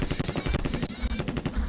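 Rapid bursts of automatic gunfire from the video game The Terminator: Future Shock, a dense, loud rattle of repeated shots running the whole time with no talk over it.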